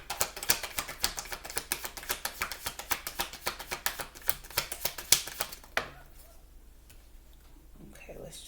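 Stiff tarot cards riffle in a fast, steady run of crisp clicks for about six seconds near the listener, then stop and leave quieter handling noise.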